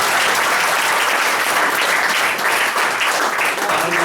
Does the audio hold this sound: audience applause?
yes